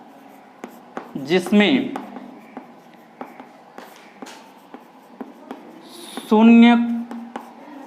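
Chalk or marker tapping and scratching on a board during a Hindi chemistry lecture, with short strokes scattered across the clip and a teacher speaking briefly twice over them.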